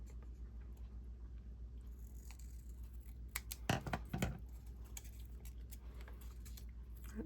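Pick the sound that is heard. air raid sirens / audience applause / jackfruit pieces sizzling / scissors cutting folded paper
scissors cutting folded paper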